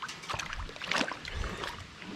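An RC truck with a new Hobbywing motor and ESC combo churns through creek water, giving faint splashing and sloshing with a brief surge of spray near the middle.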